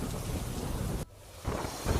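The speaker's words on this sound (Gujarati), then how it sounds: "ગીર સોમનાથમાં સતત બીજા દિવસે આ વરસાદ જોવા મળી રહ્યો છે" Monsoon rain falls in Gir Somnath in a short burst of heavy, rushing downpour with a low rumble, broken by a sudden brief gap before the wash of rain returns.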